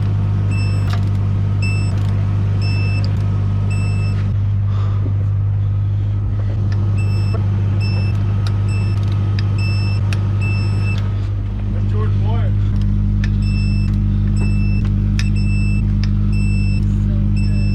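A BMW E34 drives slowly around a parking lot, its engine humming low and steady and close by, with repeated high electronic beeps ringing out over it at intervals throughout.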